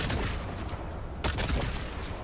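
Gunfire in Helldivers 2: a steady stream of rapid overlapping shots with a louder crack partway through, all set against a dense, noisy battle backdrop.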